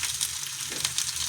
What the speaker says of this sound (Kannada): ಚೆನ್ನಾಗಿ ಫ್ರೈ ಆಗ್ತಿದೆ ನೋಡಿ.